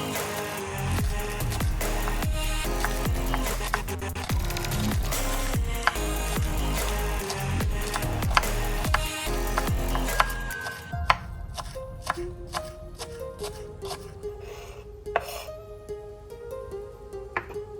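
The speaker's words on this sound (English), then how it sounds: "thinly slice the green part of the scallion" Knife thinly slicing green scallion on a cutting board, a fast steady run of crisp chops for about ten seconds, then slower scattered taps that thin out.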